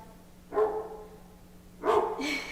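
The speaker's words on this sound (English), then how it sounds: "That bark goes right through me." A dog barks twice, a sharp close bark near the start and another loud double bark toward the end, with quiet pauses between and no talk.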